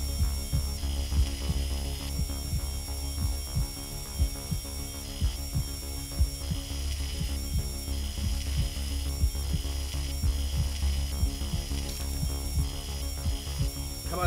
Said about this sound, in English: Drill! Give me the drill!